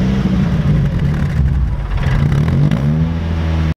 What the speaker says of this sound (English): when you rev the engine, you can definitely tell that it's got an aftermarket exhaust installed